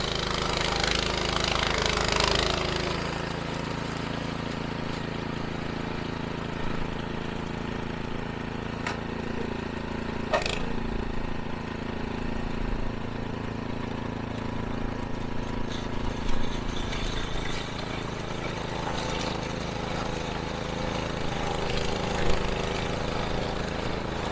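A Toro Commercial Power TRX snow blower runs steadily up close, its engine drone and rumbling auger continuous through the whole stretch, with a few brief knocks and clatters in the middle.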